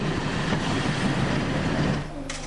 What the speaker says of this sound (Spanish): El tranvía Blau, que une Barcelona con el Tibidabo, circula desde 1901 diariamente.